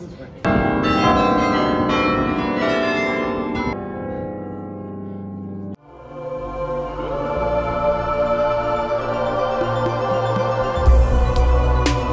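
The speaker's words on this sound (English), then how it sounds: "How many bells did they say?" The bells of a German cathedral, 34 of them, ring out in a melodic, continuous peal, with overlapping sustained tones carrying through the whole stretch.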